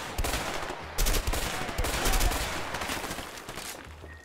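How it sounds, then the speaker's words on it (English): Rapid bursts of gunfire from the video game A Way Out crackle loudly and continuously, with repeated shots close together over a few seconds. "The gun sounds sound really good."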